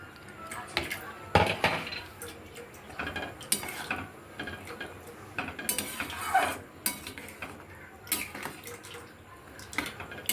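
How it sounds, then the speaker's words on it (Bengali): Irregular metal clatters and scrapes ring out as fried potato and coconut are mixed into chana dal in a pot, some strokes louder than others, with a soft voice talking in the background. "নারকোল আর আলুটা যেটা ভেজে রেখেছিলাম সেটা মিশিয়ে দেবো"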